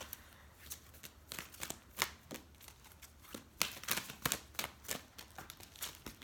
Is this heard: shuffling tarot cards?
yes